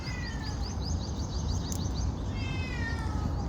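A cat meows repeatedly in high, short cries over a constant background rumble, with bird-like chirps mixed in.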